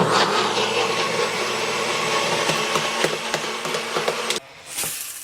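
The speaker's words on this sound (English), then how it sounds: "Twist it up, throw it on there, and blend that bitch for a little bit." A blender whirs steadily while mixing chocolate strawberry pancake batter, a loud continuous motor drone with a grinding edge that runs for about four seconds, then cuts off abruptly and leaves brief faint clatter.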